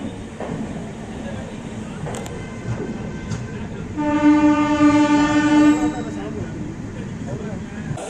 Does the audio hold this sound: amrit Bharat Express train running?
yes